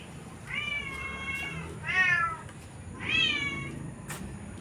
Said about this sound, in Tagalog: napakaraming pusa dito guys